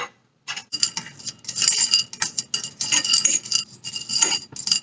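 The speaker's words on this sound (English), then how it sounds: "So I'm going to pan fry this." Cloves, cardamom and black stone flower dry-frying in a pan, with bursts of close scraping and stirring clatter from a utensil against the metal, broken by short pauses.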